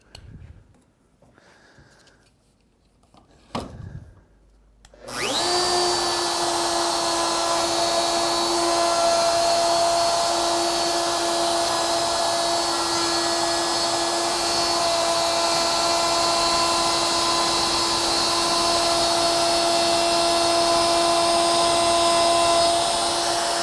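A plunge router cutting a groove into a wood work surface for string and banding inlay: after a few quiet handling knocks, the motor spins up to a loud, steady high-pitched whine and holds it through the pass.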